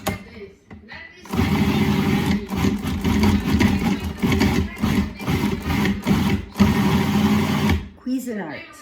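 A Cuisinart food processor churns through tomato sauce with basil, a loud steady motor whir that runs for several seconds with brief dips, starting and stopping near the ends of the run.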